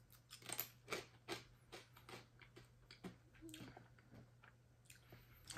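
Someone chews crunchy, well-toasted corn flakes close to the microphone, giving irregular crisp crunches and bites of varying loudness over a quiet steady hum, with no talking.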